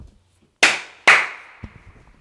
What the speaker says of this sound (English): the clap signifies the start of an episode